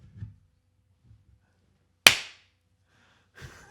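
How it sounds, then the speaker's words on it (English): A single sharp hand clap for syncing a recording snaps out once, loud and close, in an otherwise quiet room with faint rustles before and after. "Yeah, clap and go."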